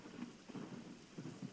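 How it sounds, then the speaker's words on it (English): A soft, steady hiss of rain falls outside, with low rumbling swells rising and fading underneath, faint and distant. "And it is raining."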